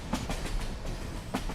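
Rhythmic clickety-clack of a passing train, rail car wheels beating over track joints in steady bursts at moderate distance, with no voices.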